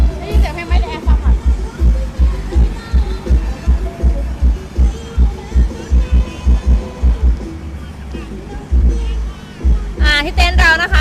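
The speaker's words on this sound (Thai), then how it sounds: "ได้ยินไหมได้ยินเสียงเพลงไหม" Heavy bass-driven music booms from an aftermarket sound system in a used car on a dealer's lot, a steady thumping beat throughout with someone talking over it near the end.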